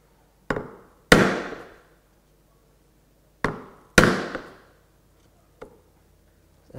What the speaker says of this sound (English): And here I'm going to chop vertically right up against my knife wall.